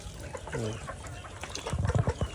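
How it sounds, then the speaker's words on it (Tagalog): A backyard free-range chicken clucks while being bathed, giving a short drawn-out call near the start and a quick burst of close, rhythmic clucks near the end, with faint background noise. "Pagpapaligo ng manok."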